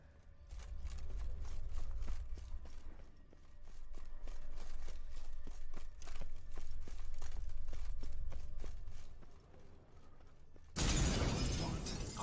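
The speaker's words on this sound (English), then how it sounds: "Wonder how you'll shatter a sheet of water" A sheet of water shattering in The Witcher 3: Wild Hunt, Hearts of Stone, heard as a run of sharp, evenly spaced cracks over a low rumble, ending in a loud, bright burst of breaking that cuts off abruptly.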